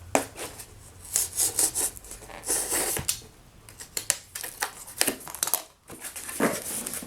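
Cardboard on a custom packing box is trimmed by hand in a close series of uneven scraping, crinkling and cutting strokes, some sharp and bright, with brief pauses between them and no talk.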